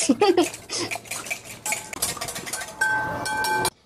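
A utensil stirring puto batter with salt and oil in a metal bowl, giving close clinks and scraping strokes, uneven and rapid, then a steadier grating swirl near the end.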